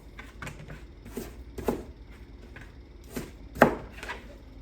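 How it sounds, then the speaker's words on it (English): Sweet potatoes being cubed with a knife on a cutting board, a series of irregular, fairly close chops and taps with one sharper hit near the end, with no talking. "just kind of cube up your sweet potatoes for getting them ready to boil"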